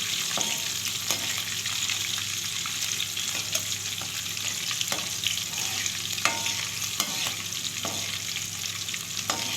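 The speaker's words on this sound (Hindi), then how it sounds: "अब हम 1 मिनट तक इसको फ्राई करेंगे।" Cumin seeds and two green chilies frying in a pan, a steady crackling sizzle punctuated by regular spatula scrapes and stirs, close and moderately quiet with no voices.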